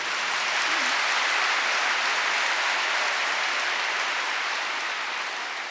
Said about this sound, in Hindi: जोर से ताली बजाओ उनके लिए